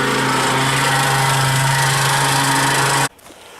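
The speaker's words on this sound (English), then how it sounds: "This is a noisy bit. Compacting the stone." A plate compactor pounds type 1 roadstone for a garden path base, a loud, steady close-up engine drone with rapid vibration that cuts off sharply near the end.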